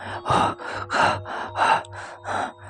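Heavy panting, quick ragged breaths in and out repeating in a steady rhythm, close and fairly loud, with no talking.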